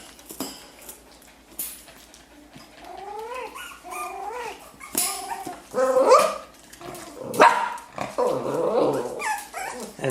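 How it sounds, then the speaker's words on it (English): A mother dog barks in repeated yelps and whining bursts close by while her puppies eat from a dish, with light clinks of the dish mixed in. "And the barking you hear is good old Mom Bootsy."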